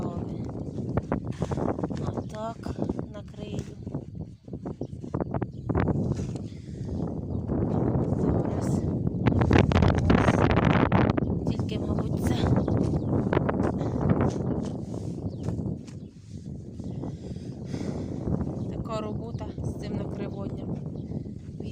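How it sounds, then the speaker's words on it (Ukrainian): Strong outdoor wind buffets the microphone in a vegetable garden, roaring in loud sustained gusts with rumbling low-end noise that swells in the middle, while a person talks intermittently over it. "вітер такий, що пляшки здуває"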